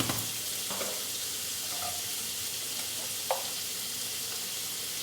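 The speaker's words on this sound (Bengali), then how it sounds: "তেলেই আমি পনিরটাকে ফ্রাই করে নেব।" Paneer cubes frying in oil with a pinch of salt, a soft continuous sizzle with faint clinks of a utensil, quiet and close.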